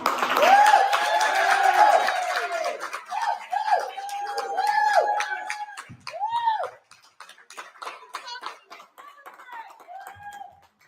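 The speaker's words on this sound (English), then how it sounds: "the cheering and applause" Courtroom crowd bursting into cheers and applause as a judge announces a ruling, heard through a played recording; loud, dense clapping and shouting voices at first, thinning into scattered cheers and whoops toward the end.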